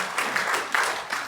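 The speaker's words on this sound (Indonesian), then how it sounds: "Beri tepuk tangan dulu yang meriah buat Tuhan kita." Brief burst of congregational clapping at an Easter church service, moderately loud, swelling in a few pulses over a second or so with no voices on top.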